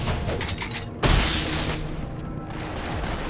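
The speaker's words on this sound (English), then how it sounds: "your antiquated shields won't work on my modern cannon technology" A loud, close cannon blast in Torchlight II cuts through a dense backdrop of ongoing battle noise, with one heavy boom standing out from the constant roar and no talking.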